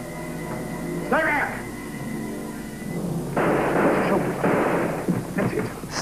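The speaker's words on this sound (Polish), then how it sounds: "Strzały." Gunshots ring out in a 1944 Sherlock Holmes film soundtrack, a cluster of harsh noisy bursts after a stretch of talk, loud and somewhat distant with a rumbling echo.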